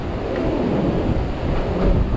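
Deep, steady rumbling thunder rolls from an approaching storm, the Pabuk tropical storm near the Mekong River, heavy and continuous for a couple of seconds, with wind buffeting and no talking.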